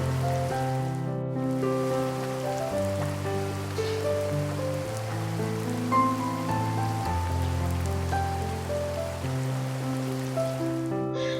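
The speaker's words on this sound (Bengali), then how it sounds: "প্রচুর বৃষ্টি হচ্ছে" Heavy rain pours down in a steady, dense hiss of drops drumming on surfaces, continuous and close.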